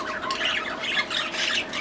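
Parakeets squawk in a dense, continuous flurry of harsh, chattering calls, close and fairly loud, with no talking.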